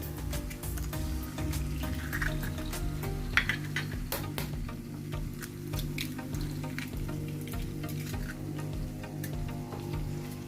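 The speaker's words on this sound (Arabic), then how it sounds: "ننزل عليه على طول بالبيض" Eggs sizzle and crackle steadily in a hot pan, with occasional scraping taps from a utensil and a low hum underneath.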